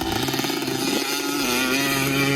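Two-stroke 250 dirt bike ripping across sand dunes, a loud, buzzing high-revving engine whine that holds steady and close throughout.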